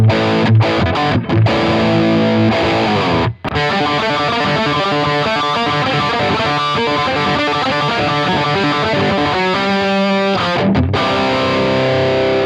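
Electric guitar played through a Strymon Iridium amp simulator set to a heavily distorted Marshall tone, loud and continuous riffing with sustained chords and one brief gap near the start.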